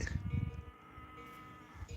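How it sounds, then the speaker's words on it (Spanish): A young cow calf lowing somewhere off in a rural hillside setting, a bleating, drawn-out call heard at moderate distance over low rumbling background, with a few rough pulses early then a steadier tone. "está bramando para allí una vaca"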